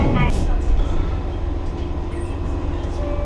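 A village train at a rural station in Japan rumbles steadily nearby, a continuous low mechanical drone with faint rattling, while someone talks over it.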